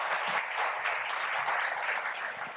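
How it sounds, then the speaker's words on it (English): Audience applause at a live pitch competition finale, a steady round of clapping from a seated crowd that holds at an even level. "please let's give a round of applause for joining us today"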